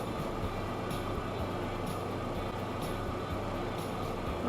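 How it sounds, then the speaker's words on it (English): A train rumbles steadily past in the railway simulation game Transport Fever 2, with continuous low rolling noise and rhythmic clacks of wheels over rail joints roughly once a second. "Nice little train, that."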